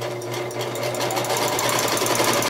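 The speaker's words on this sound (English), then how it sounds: "So we'll take this machine and sew that." A sewing machine runs steadily, stitching the seam of a felt Christmas stocking, its motor hum and rapid needle chatter continuous and close for the whole stretch.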